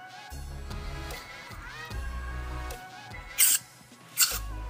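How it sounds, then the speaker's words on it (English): Two short, sharp hissing bursts of aerosol brake cleaner sprayed close by into a Honda Odyssey FL250 carburetor, separated by a pause, over quiet background clatter. "So we'll spray some brake cleaner down there."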